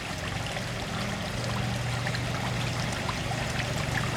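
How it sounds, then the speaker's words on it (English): Water runs by gravity into a pond filter's pump pit, a steady, close rushing trickle that holds an even level throughout with no voices. "water moves by gravity into this thing because the entrance to this stump pit is lower than the surface of the pond water"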